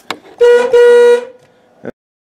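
An old car horn blares twice in quick succession, a loud brassy honk with a short gap, framed by faint clicks.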